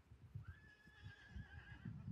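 Horses neighing at a horse training yard: a faint, drawn-out whinny rises and holds over low, uneven rumbling and possible hoof clops in the background.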